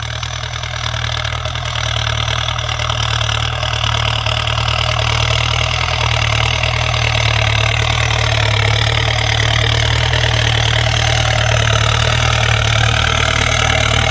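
A 6640 tractor plows and ridges moist soil on a farm, its engine giving a steady, loud, continuous drone that runs unbroken through the whole stretch with no talking.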